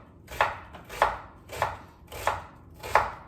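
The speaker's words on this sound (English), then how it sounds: "This onion we are going to slice this way." A knife cuts thin slices of red onion on a board, five evenly spaced, crisp chops about half a second apart, close and distinct with quiet pauses between them.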